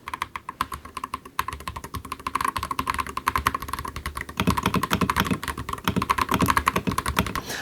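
Typing on an Akko mechanical keyboard, a 5075 or 5087, with creamy blue switches: close, rapid clicky keystrokes in a continuous uneven rhythm, growing denser and louder toward the end, with no talking.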